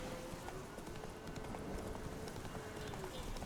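Roach the horse galloping in The Witcher 3 video game, rapid continuous hoofbeats pounding close and fairly loud throughout, with no voices over them.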